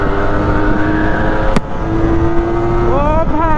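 Yamaha ZR 125 scooter engine running close by, a steady buzzing drone with a rising rev toward the end and a brief sharp click midway; voices talk over it.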